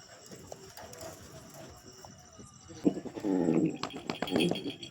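A goat in labour cries out twice in the second half, a near, strained bleat followed by a shorter call, over a low rustling outdoor background.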